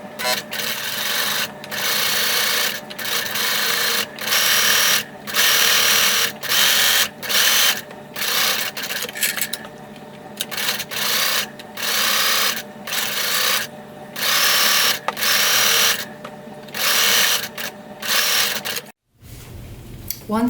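A sewing machine stitches sweater fabric for a pumpkin in repeated short bursts of rapid mechanical whirring, separated by brief pauses, close and fairly loud, with a clunk near the end.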